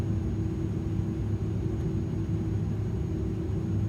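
Engine 1 of an iniBuilds A300-600F freighter spools up during start in Microsoft Flight Simulator, a low steady rumble with a faint high whine, heard from the cockpit without speech.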